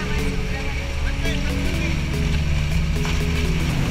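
Rough sea around a small boat near El Nido in the Philippines, with a loud, constant rush of water and engine noise and people talking over it.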